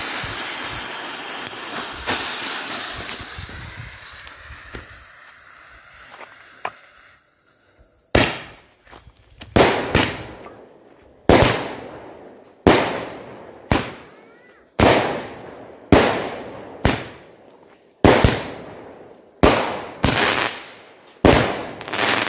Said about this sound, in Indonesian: ini yang pertama kita nyalakan 2 buah sekaligus mercon Roman candle 8 shot